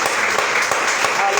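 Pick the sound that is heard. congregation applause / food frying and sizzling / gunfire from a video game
congregation applause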